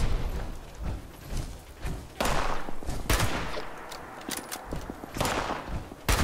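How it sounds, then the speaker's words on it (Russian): A grenade blast and gunfire in the post-apocalyptic shooter Fallout 76 come as dense, booming bursts of shots and heavy thuds that roll on almost nonstop, loud and close. "Граната."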